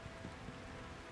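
Rain falls in Diablo 2 Resurrected during a Nightmare Act 1 run, a very faint, steady patter and hiss of drops with soft low rumbling, no voices.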